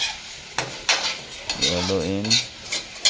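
Chicken liver and gizzard adobo being stirred in a pan with a little coconut oil: a spoon clacks and scrapes against the metal in irregular strokes, with a brief voice in the middle.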